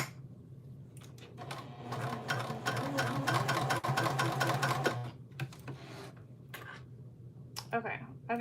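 A sewing machine stitches a basic tote bag in quick, rapid rattling bursts that stop and start, with a few clicks in between.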